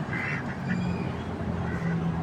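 Young white ducks quack over and over, a steady cluster of overlapping calls close by, with a continuous background murmur.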